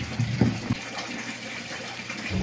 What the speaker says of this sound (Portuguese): São mais 30 litros de água